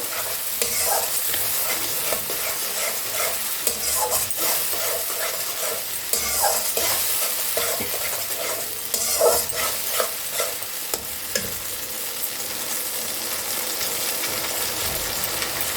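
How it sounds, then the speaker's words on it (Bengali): Tomato paste for Mughlai chicken is stir-fried in a pan with a spatula, a continuous loud sizzle broken by repeated scraping strokes, with no voices. "এগুলো দিয়ে আমি খুব ভালো করে ভাজা কষবো"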